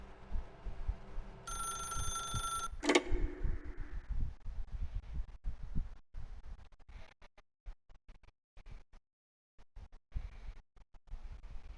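A telephone rings inside The Stanley Parable: Ultra Deluxe, a short bright ringing burst early on followed by a sharp click as it is answered, leaving a low murmuring background.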